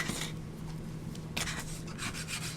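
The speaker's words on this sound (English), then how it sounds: "take this panel, and we're going to fold it in" Paper gift box panel being folded in by hand, soft rubbing and scraping of paper against paper in short bursts, close and quiet.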